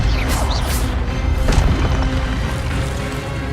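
Incendio and Expelliarmus spell effects in Hogwarts Legacy go off as loud booming, crashing blasts with a sharp impact near the middle over a dense rumbling background.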